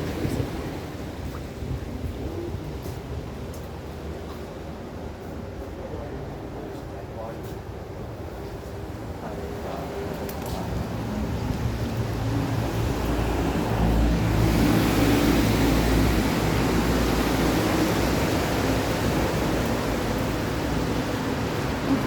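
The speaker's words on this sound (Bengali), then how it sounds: "এই ছাতায় কাজ হবে না, যে বৃষ্টি হচ্ছে আর কি" Heavy rain falls with a cold wind, a dense steady hiss that swells noticeably louder about halfway through and then holds as a broad roar.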